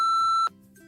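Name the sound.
phone beep of an incoming text message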